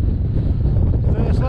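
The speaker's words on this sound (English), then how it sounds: "it's very windy!" Strong wind buffets the microphone on an exposed Peak District hilltop near Kinder Downfall, a loud steady low roar that covers the whole short stretch.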